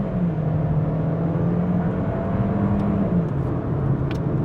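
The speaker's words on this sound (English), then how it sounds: "we'll try to get a good launch. Boost. And on the gas." A 2026 Volkswagen Jetta Sport accelerates hard from a launch, its engine holding a loud, steady drone and whir heard from inside the cabin, with the pitch rising slightly and no voices over it.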